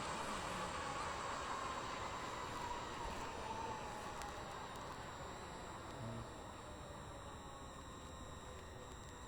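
A train in the Stepford County Railway game roars steadily past or approaches a platform, a loud continuous rumble and rushing hiss that holds level throughout.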